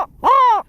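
A man imitates a crow, letting out one loud, drawn-out nasal caw with his voice, close and clear, after a brief softer sound.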